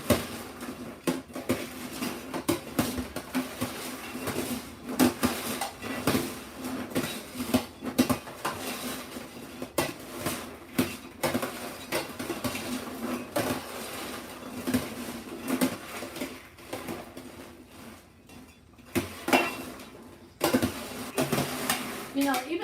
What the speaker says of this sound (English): now I have to start moving this popcorn around or it's dry up in one big clump